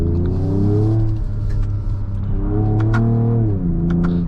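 A 2024 Ford Ranger Raptor on 33-inch wheels rolls over gravel, its engine droning low and steady up close with gear-linked pitch shifts and faint crunching and cabin clatter.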